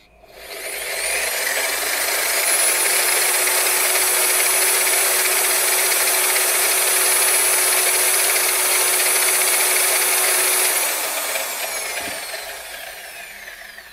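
A Benz Polisher Premium Series car polisher runs unloaded at its top speed setting, a steady high whine that spins up, holds loud and constant for about ten seconds, then winds down, with no talking.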